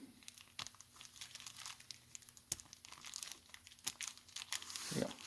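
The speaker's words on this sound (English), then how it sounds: "I would recommend sticking this inside a plastic bag" A plastic bag crinkles and rustles around the charging handle of a Squires Bingham Armscor M1600 rifle, with close, irregular crackling bursts and a few sharper crunches, no talking.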